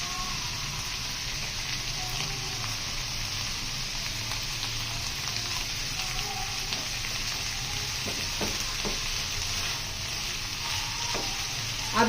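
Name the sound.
macaroni with chicken and ketchup frying in a pan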